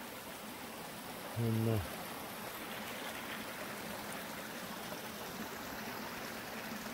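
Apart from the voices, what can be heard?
mountain creek flowing over rocks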